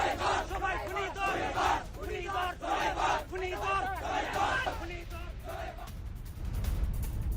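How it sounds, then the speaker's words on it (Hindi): A large crowd of marchers at a funeral procession in the streets of Dhaka, Bangladesh, shouts and chants in loud, rhythmic waves that continue without a break, with a dense roar of voices filling the street. "उस्मान हादी के जनाजे में आई भीड़ ने बवाल मचा दिया"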